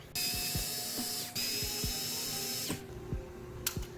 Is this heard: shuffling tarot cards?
no